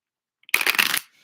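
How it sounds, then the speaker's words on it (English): A deck of playing cards is riffle-shuffled up close: a brief, dense burst of fluttering paper clicks lasting about half a second after a faint tap. "I'm shuffling in a way."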